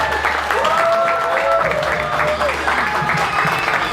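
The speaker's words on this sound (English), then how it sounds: "Make some noise for Zoltan" Audience at a stand-up comedy show applauds and cheers loudly and steadily for a comedian, a dense continuous wash of clapping with a few whoops rising through it, and a voice calls out over the noise.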